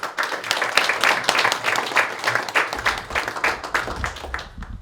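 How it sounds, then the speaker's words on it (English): A crowd claps for a state assemblyman at a community center grand opening, dense, lively applause sustained for several seconds at close range. "Give Scott a round of applause, please."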